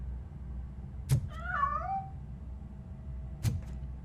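A cat meows once, a clear wavering mid-pitched cry in Robocop: Rogue City, set between two sharp thuds over a quiet low ambient hum; no one speaks.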